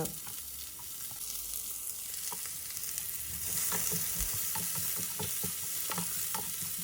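Onions, fennel, curry leaves and dried chillies sauté in a pan for a raw banana fry, a quiet continuous sizzle punctuated by frequent spatula scrapes and clicks.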